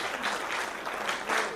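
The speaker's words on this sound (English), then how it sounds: "Give him a big round of applause, ladies and gentlemen." Audience applause at an awards gala, a steady wash of many hands clapping, moderately distant and fairly faint, continuous for a brief stretch with no speech over it.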